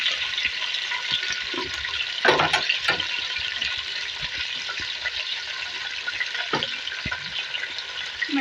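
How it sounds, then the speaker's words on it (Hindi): Onions frying in a pan for aloo matar biryani, a steady hiss of sizzling oil with occasional stirring scrapes and clinks, close and continuous. "देखिए यहाँ पे इसको फ्राई कर लिया है। अब इसमें आलू डालेंगे।"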